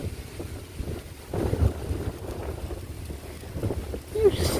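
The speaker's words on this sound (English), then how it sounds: "it's pretty windy out here" Gusty wind blows outdoors during a cold front, buffeting the microphone with low, uneven rumbling swells that rise and fall over a few seconds.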